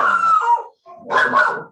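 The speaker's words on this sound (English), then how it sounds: "My dog is clearly a Liverpool fan, and she's angry that I've talked about Liverpool in such a degrading way." A female dog barks and growls in two loud, close outbursts separated by a brief pause, with no talking over it.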